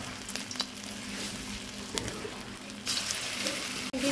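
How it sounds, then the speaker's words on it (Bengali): Banana flower fritters (mochar bora) fry in hot oil with a steady, close hiss and crackle. A few light clinks and stirring sounds break in, and the sizzle grows slightly louder near the end. "মোচার বড়া তোলা হচ্ছে আস্তে আস্তে ভেজে ভেজে"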